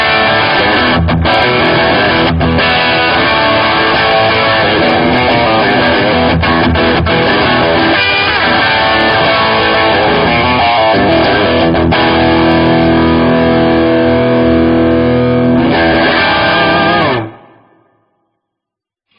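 An electric guitar runs through the Vintage preset of a Marshall JMD:1 amp, modeled on the JCM 800 preamp, playing a loud, continuous riff with choppy accents. The last strum rings out and cuts to silence near the end.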